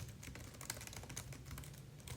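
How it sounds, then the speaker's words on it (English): Keys clatter on a computer keyboard in a fast, steady stream of faint clicks with no talking. "let's try this with a little bit of typing here"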